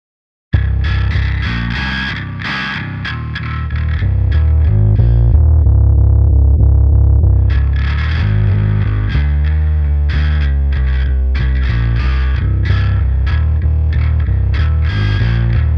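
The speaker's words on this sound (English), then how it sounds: "Blend is basically an extreme version of crossover." The Mammoth Bass plug-in in Blend mode, an extreme form of crossover distortion, pushes a thick, gritty bass line under a continuous electronic loop. Loud and sustained throughout, with no voices.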